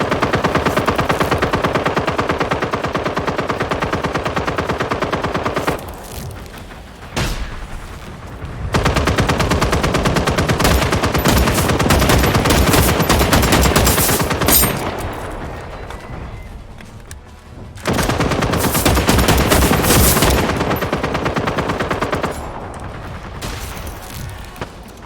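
Turret gunfire from the video game Generation Zero comes in long, rapid automatic bursts, loud and dense, broken by short quieter pauses between the volleys.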